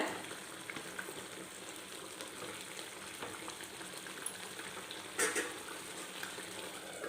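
Pepper mutton curry with roasted pepper, fennel and raw rice simmers as its water cooks off, a constant low bubbling and frying hiss with a short stirring clatter toward the end.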